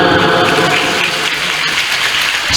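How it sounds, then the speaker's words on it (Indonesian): Audience at a ceremony applauding on cue, a continuous, fairly loud spread of many hands clapping together, with no speech over it. "Tepuk tangan dulu."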